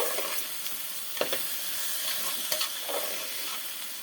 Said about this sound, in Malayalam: ഇതിനെ ഒന്ന് ഇളക്കി കൊടുക്കണം